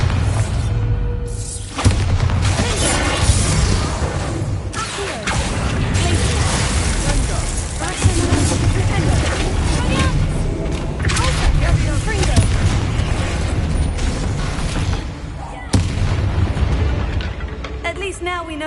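A Bombarda spell explosion in Hogwarts Legacy: a loud boom followed by crashing, shattering debris and whooshes, with talking over the game sounds.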